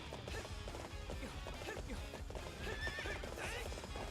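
Horse hooves clip-clop at a gallop with a whinny in the Hyrule Warriors video game, steady and busy throughout, mixed with game sounds and music.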